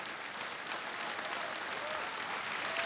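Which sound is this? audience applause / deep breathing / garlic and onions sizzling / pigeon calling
audience applause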